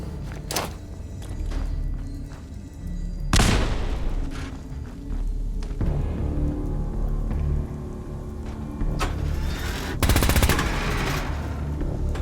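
Fallout 4 combat: a thrown frag grenade bursts in loud, close booms amid sustained bursts of automatic gunfire and scattered shots, with a few sharp explosive peaks rising over continuous battle noise.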